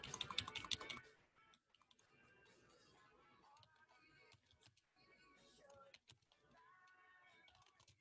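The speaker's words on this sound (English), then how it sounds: "So I'll do us all a favor and type it instead of trying to write it." A quick burst of close, clattering computer-keyboard typing fills the first second, then gives way to quieter room sound and faint speech.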